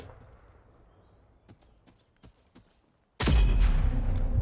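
Sniper fire in the video game Rogue Company: faint scattered shots and clicks give way to a sudden loud, dense burst of gunfire that continues to the end.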